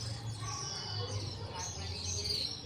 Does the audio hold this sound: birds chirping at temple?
yes